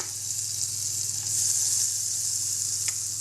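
Fifty grams of butter sizzling in a hot pan, a bright continuous hiss that swells slightly midway, close and steady with faint clinks.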